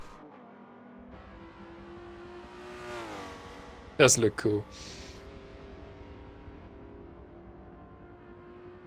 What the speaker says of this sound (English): I think like a V12. It's like an orchestra.